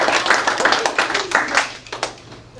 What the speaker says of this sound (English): How about a nice round of applause for our I's?